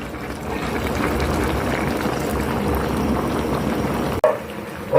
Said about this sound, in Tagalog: lalagay ko na po yung gata